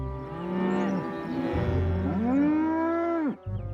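Cows mooing in a children's animated train adventure, a few long, deep, drawn-out lowing calls overlapping one another, loud and close with no talk.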